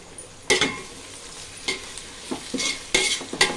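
Curry leaves sautéing in a pan for rava kichadi, with a steady sizzle broken by several loud scraping stir strokes, close by and without talk.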